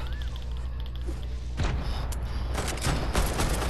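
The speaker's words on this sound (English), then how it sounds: "now I'm being shot at" Video game gunfire arriving in several rapid bursts after a quieter hum, loud and close, with crackling impacts spread over a few seconds.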